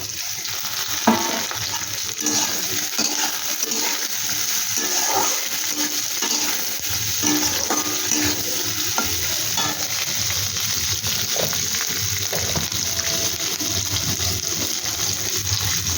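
Capsicum frying and being stirred in a pan while pasta is made from flatbread, a steady broadband sizzle running throughout with occasional scrapes and clacks of the spatula, close and continuous.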